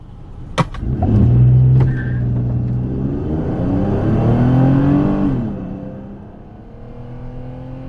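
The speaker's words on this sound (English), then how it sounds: "I'm just gonna brake torque and see what we get." A 2008 Toyota RAV4 V6 engine revs up from a brake-torqued launch and roars loudly as the SUV accelerates hard, pitch climbing through several gear changes, close to the microphone.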